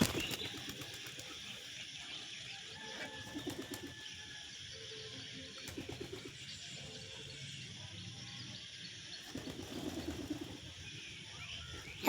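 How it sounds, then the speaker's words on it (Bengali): Wild pigeons coo and chirp faintly at a distance while bursts of wing flapping mark birds flying off one by one, over steady outdoor background noise. "এক এক করে সব বুনো পায়রাগুলো পালিয়ে যাচ্ছে"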